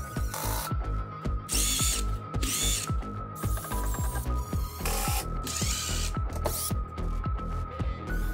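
A drill drives screws into plasterboard panels during a bathroom renovation, with repeated whirring bursts and ratcheting clicks between them, loud and close, and no talking.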